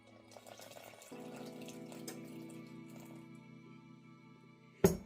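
Water runs steadily from a tap into a container as half a cup is measured out for thin-crust pizza dough, a continuous close stream with a sharp clunk at the end and no talking.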